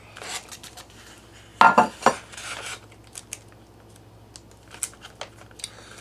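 Rehydrated homemade freeze-dried BBQ beans are dished up from a meal pouch, with a cluster of spoon scrapes and clinks against the container and softer scattered taps afterward.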